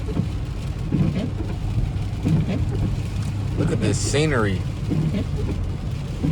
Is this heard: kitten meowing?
no